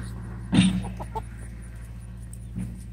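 Young farm chickens, including cockerels, cluck nearby: one loud squawk followed by scattered softer clucks and a later brief call over a low steady hum.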